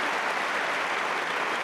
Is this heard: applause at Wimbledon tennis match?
yes